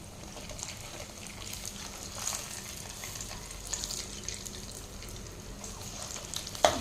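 Suzhiyam sweet dumplings fry in hot oil with a low, steady, even hiss. A faint clink comes right at the end, and no voices are heard.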